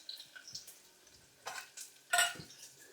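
Ingredients for Mente Bath frying in a pan, heard as a few short, scattered scrapes and clinks of a utensil against cookware over a quiet background, the last one louder.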